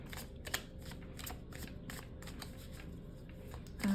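Message cards are shuffled, producing a quick series of soft, flicking riffles at an uneven rhythm, close and fairly quiet, with no speech.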